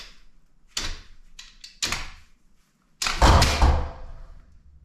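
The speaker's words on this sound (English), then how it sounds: "it caught on my garage door and stopped it from just slamming down" A 12.5-foot extension ladder collapses after its release mechanisms are triggered, catching on a garage door: a clattering thud, a second knock, then a heavier, louder crash with a rattling tail, all close by.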